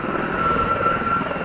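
Gazelle helicopters of a squadron display team flying at an air show give a continuous, fairly loud engine drone with a steady thin whine, heard at a distance without breaks.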